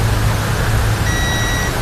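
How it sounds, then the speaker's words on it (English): A thin, steady electronic beep from a quadcopter marking completed horizontal calibration sounds once over a constant hum and low background noise, lasting about half a second. "You hear the beep? That means horizontal's done."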